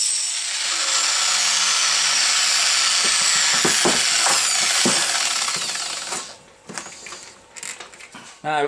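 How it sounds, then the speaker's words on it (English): Metal being ground on a lower control arm, a continuous harsh hiss of an abrasive grinder that holds steady, then breaks into short bursts and stops near the end. "So that's the tedious job of grinding."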